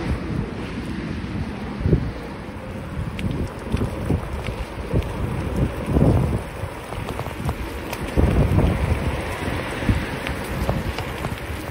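Strong gusting wind buffets an outdoor microphone on flat open ground beside an electric scooter, a continuous low rumble with heavier blasts near two, six and eight seconds, no voice present.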